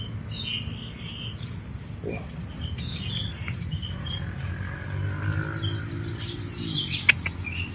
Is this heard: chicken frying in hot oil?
no